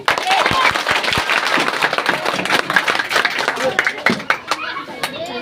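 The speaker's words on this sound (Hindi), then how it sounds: "जोरदार ताली" Audience applause at a meeting, lively clapping from a crowd with irregular sharp claps close by and murmuring voices mixed in, gradually thinning toward the end.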